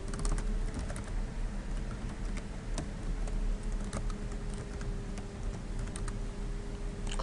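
Username and password typed on a computer keyboard, with a steady run of close, fairly loud key clicks throughout and a faint steady hum underneath.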